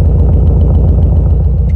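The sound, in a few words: Subaru WRX STI engine idling through Xforce exhaust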